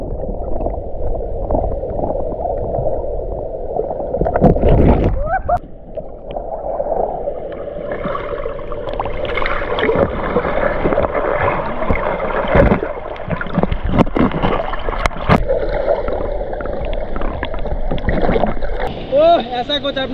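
A man swims and splashes underwater in the water in Arunachal, giving continuous sloshing, gurgling and churning water noise with sharp splash bursts, loud and close, with voices faintly mixed in.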